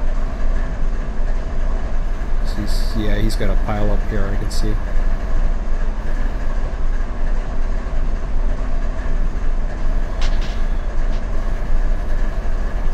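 A train rolls along the rails in a steady continuous rumble with a burst of rhythmic clacking midway, as someone talks over it.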